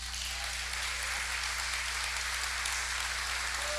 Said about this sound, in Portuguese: Celebre ao Senhor com as suas palmas.